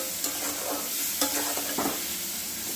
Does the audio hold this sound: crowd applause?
no